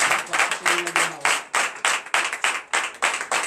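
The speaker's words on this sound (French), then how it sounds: "Donnez de l'acclamation à notre Seigneur." Steady rhythmic clapping from a church congregation at a Sunday service in Comè, Benin, about two claps per second, fairly loud and even, with a brief held tone underneath early on.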